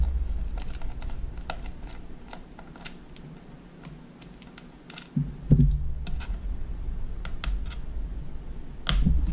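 Small Phillips screws being removed from a Laborie Goby Urocap device make close, light, irregular ticks and clicks, with a slightly louder clatter midway.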